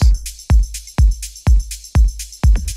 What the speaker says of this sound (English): this is a shaker, a nice wide shaker